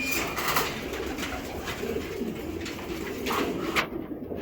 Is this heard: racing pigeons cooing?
yes